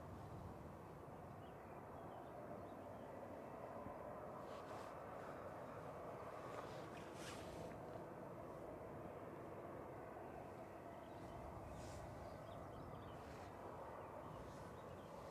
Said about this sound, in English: Ryanair arrival.